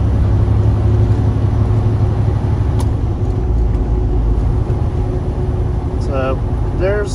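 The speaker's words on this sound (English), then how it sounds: "Do one more shift up to 9th for you." A truck engine with an Eaton 10-speed transmission rumbles low and steady as it shifts up to ninth gear, the hum continuous, with a few brief high chirps near the end.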